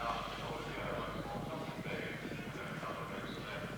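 Racehorses gallop in a 1992 steeplechase handicap chase, a quartet of runners jumping a fence, with steady hoofbeats and crowd rumble under continuous race commentary.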